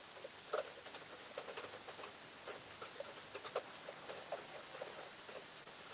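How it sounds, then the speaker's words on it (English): Rain patters steadily outside as a weather front moves in, a continuous soft hiss dotted with many small, sharp drop impacts, heard alone without voices. "I love the sound of rain."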